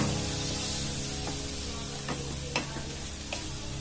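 Noodles with tomato sauce stirred in a frying pan over low heat: a steady close sizzle with a few sharp scrapes and knocks of the utensil against the pan, no talking.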